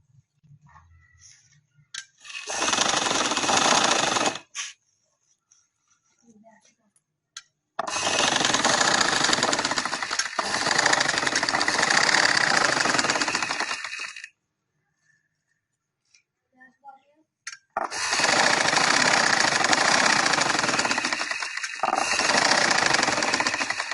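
Sewing machine running three long bursts of double stitching along a full sleeve, loud and close, each run steady and whirring, separated by short quiet pauses.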